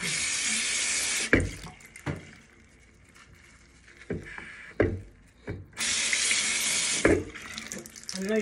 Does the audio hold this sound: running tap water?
yes